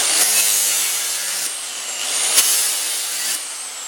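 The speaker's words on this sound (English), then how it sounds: "It's something to just grind a quick flat edge down the back." A grinder works a flat edge along the back of a lawn mower blade, a loud, steady, harsh metallic rasp with a high whine and a few brief surges, heard up close with no talk.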